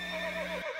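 A horse lets out a single short, high whinny, close and loud, lasting under a second and ending abruptly.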